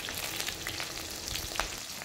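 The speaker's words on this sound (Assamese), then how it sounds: "এয়া মাছখিনি ফ্ৰাই কৰি লোৱা হৈ গ'ল" Fish, silver pomfret cooked with elephant apple, frying in a pan: a steady close sizzle with faint crackles and pops throughout, no talking.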